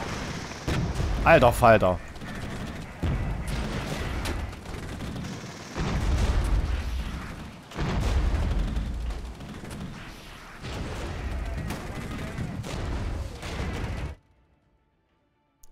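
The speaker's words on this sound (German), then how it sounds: "Wir countern mal die Artillerie, weil die ist jetzt am gefährlichsten mit für uns." Artillery fire in the strategy game Regiments: heavy booms roll out repeatedly across the battlefield at mid distance, mixed with scattered gunfire. Someone talks over the barrage, and the sound cuts off abruptly near the end.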